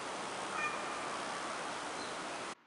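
A single drawn-out cat meow, loud and close, held for a couple of seconds before cutting off abruptly.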